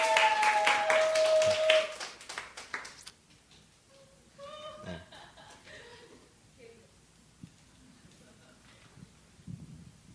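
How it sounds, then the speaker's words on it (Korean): A church congregation gives brief, lively applause to welcome a speaker forward, clapping for about two seconds before it fades into scattered chuckles and talk. "우리 박수로 환영하면서 앞으로 잠깐"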